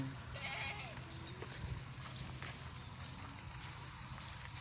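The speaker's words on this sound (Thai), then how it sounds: "เสียงแพะ" A goat bleats briefly near the start, followed by more distant bleating and clatter against a constant outdoor background hum.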